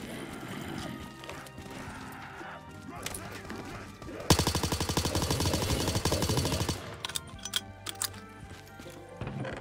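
Rapid sustained light machine gun fire in a Black Ops 3 custom zombies map, a dense fast-rhythm burst lasting a few seconds, loud and close, with scattered shots and game noises around it.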